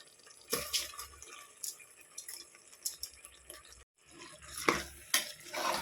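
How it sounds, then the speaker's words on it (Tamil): Washed rice being stirred and sautéed in a pan for tomato rice, with scraping and clinking strokes coming in irregular bursts close by, a short pause midway, and no talking. "நம்ம அரிசி கழுவி வச்சுருக்கோமா அதை இதில் போட்டு வதக்குறேங்க"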